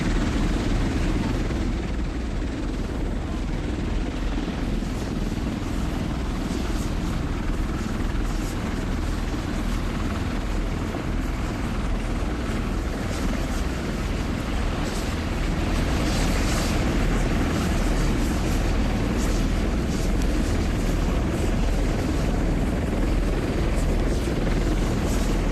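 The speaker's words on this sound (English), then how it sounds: "Marine One taxiing out, not your typical helicopter that just takes off." Loud, steady rotor and engine roar of Marine One, the presidential helicopter, taxiing nearby, a constant whine and throb that fills the whole stretch with no pauses.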